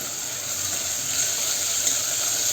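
Tomatoes frying with salt in a pan give off a steady, even sizzle with a soft crackle that holds at moderate loudness throughout, with no talking over it.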